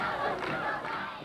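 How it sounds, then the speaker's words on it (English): A large crowd gathered for an 8888 uprising commemoration at a monastery in Rangoon produces a dense, continuous roar of many voices, loud and steady throughout. "a tribute led by opposition leader Aung San Suu Kyi drew crowds of people to Tha monastery"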